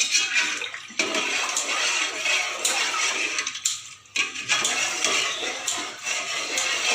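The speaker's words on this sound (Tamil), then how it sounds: "இனி இப்போது தண்ணி தேவையான அளவு தண்ணி ஊற்ற போகிறேன்." Water is poured from a cup into a cooking pot to boil for rice, about four cups in all. The splashing comes close in several bursts, separated by short pauses.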